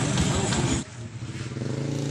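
A motorcycle engine with a faulty starter being brought to life during a repair, loud, rough running that drops abruptly partway through and then settles into a lower, pulsing idle.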